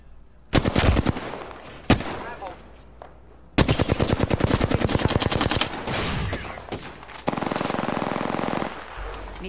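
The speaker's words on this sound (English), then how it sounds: "I am taking fire." Rapid automatic gunfire from Apex Legends on the Kings Canyon map, loud close bursts of repeated shots with short gaps between them, sustained volleys filling most of the stretch.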